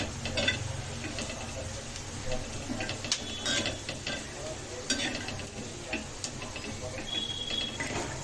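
An onion and masala mixture fries in oil for a village-style chicken black curry, with a continuous sizzle under repeated scraping and stirring clatter from the pan, close and fairly loud.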